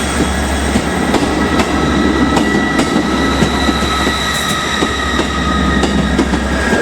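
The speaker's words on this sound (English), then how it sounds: "158736 is off with the slightly late 1319 Scotrail service to Cowden Reef." A ScotRail Class 158 diesel multiple unit pulls out of Edinburgh Waverley, loud and close, with a continuous engine rumble, rhythmic wheel clatter over rail joints and a faint squeal riding on top.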